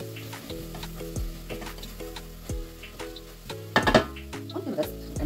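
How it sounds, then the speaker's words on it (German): A pan of frying food with broth is stirred now and then, giving a steady sizzle broken by repeated scraping strokes and a sharp clatter of the utensil against the pan, close by. "Ab und an mal umrühren, damit es nicht anhackt."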